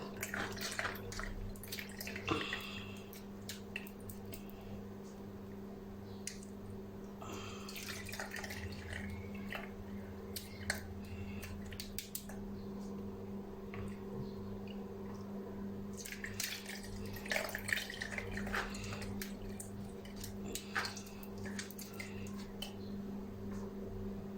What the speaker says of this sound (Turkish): Kabım birazcık geniş olduğu için dökemeyeceğim. O yüzden kepçeyle alıyorum.